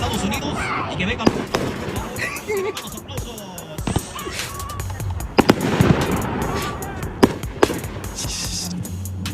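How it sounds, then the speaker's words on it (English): Fireworks go off in a rapid string of sharp cracks and pops, some close and loud, with irregular bursts spread across the stretch while people talk and shout nearby. "Fireworks!"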